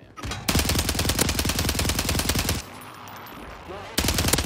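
Rapid automatic gunfire in Call of Duty, a fast even stream of close, loud shots lasting about two seconds, a short quieter gap, then another burst starting up.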